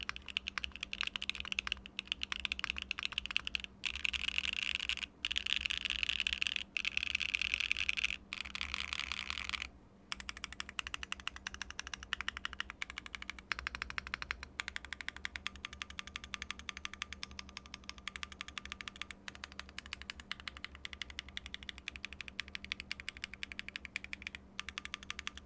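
Typing on a custom mechanical keyboard fitted with lattice blocks gives crisp, clacky keystrokes in fast, steady runs with a brief pause partway through, close and clear with no talk.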